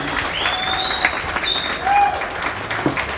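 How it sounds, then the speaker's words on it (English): At a junior livestock hog show, a crowd applauds in a steady, moderately loud patter of clapping, with a few whistles and whoops rising over it. "let's give all 10 kiddos out here a round of applause for a job well done."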